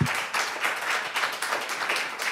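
An audience claps at a candidate debate in a women's club hall, a steady round of applause that keeps a constant level throughout.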